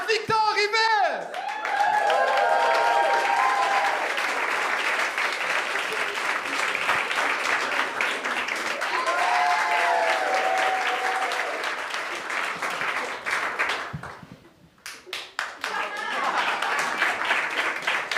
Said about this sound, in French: OK, arrêtez d'applaudir.